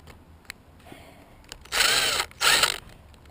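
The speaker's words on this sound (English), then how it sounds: "I'm going to drill it to get it off." A power drill whirs in two short, loud bursts while removing a nut on a Traxxas Stampede RC car, preceded by faint clicks and handling noises up close.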